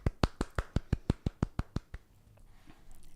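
About a dozen crisp, evenly paced hand claps from one person during a children's story reading lesson, then quiet room tone.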